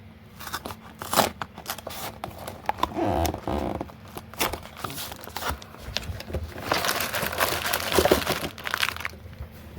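A Lego Star Wars Yoda Bust set box has its cardboard flaps cut, giving irregular close crunches, cracks and crinkling snips in uneven bursts, fairly quiet with no talking.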